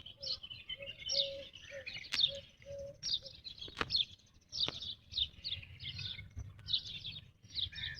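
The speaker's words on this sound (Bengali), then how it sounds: "পাখির ডাকগুলো শুনতেছেন আপনারা," In a small oasis forest garden in the Dubai desert, birds call repeatedly with short high chirps and soft coos over a quiet outdoor background, moderately distant and steady throughout.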